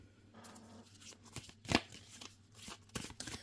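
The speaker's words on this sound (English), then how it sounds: "let's shuffle them up a little bit," Close, crisp riffling of a deck of oracle cards being shuffled, several quick flurries of flapping cards with a sharper snap in the middle.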